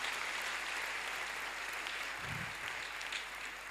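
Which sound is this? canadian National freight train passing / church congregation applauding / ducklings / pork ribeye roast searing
church congregation applauding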